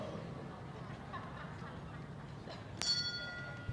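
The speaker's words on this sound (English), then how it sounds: "The bell sounds" A single bright bell ding rings out near the end over a faint, steady background murmur at a show jumping competition, its tone lingering briefly.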